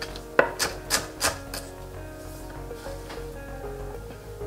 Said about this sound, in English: I'm dicing white onions here